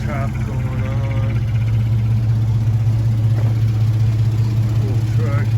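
A 1947 Ford F1 pickup fitted with a 4.3 V6 engine runs at a steady, even idle, a close, continuous low rumble with someone talking over it.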